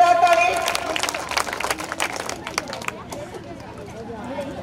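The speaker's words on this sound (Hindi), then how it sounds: "इन बच्चों के लिए जोरदार ताली।" An audience at a ceremony for the school's Inter toppers gives a burst of clapping that thins out over a few seconds, with voices in the hall, then fades to quiet murmuring.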